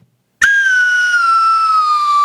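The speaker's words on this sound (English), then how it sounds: "this our new segment? The slide whistle?" A slide whistle gives one loud, sustained tone that glides slowly downward for about two seconds, heard alone after a brief silence.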